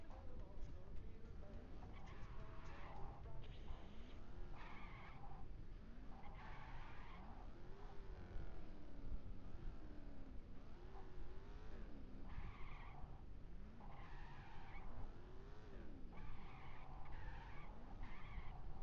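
Car in the Gangstar Vegas video game speeds along at full throttle with repeated tire squeals and skids, engine tones rising and falling, as someone talks over the gameplay throughout.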